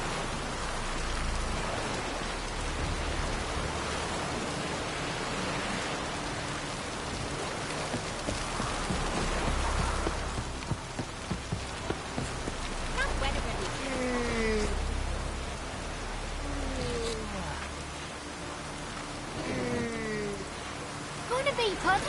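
Steady rain pours down in a video game, a soft, even hiss that fills the whole stretch, with a few faint gliding tones rising over it.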